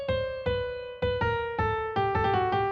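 An input melody for an AI music co-creation tool, played as a clean single-note line with evenly spaced plucked or struck tones about every half second, quickening at the end, alone and fairly quiet.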